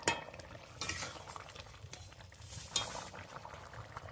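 Chicken and potato curry bubbling in a pot, a soft steady simmer with occasional clinks of a spoon against the vessel, fairly quiet and close.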